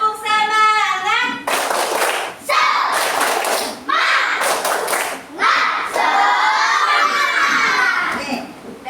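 Schoolchildren in a classroom perform a rhythmic spirit clap, bursts of group clapping and loud shouting in several rounds, with a teacher's voice and children's speech between them.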